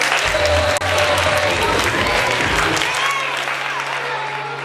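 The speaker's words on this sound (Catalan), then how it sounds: "Un aplaudiment per a ella." Audience applause for a prize winner at a Jocs Florals 2013 school literary awards ceremony, a dense, sustained round of clapping with crowd murmur and a low hum underneath, easing off slightly toward the end.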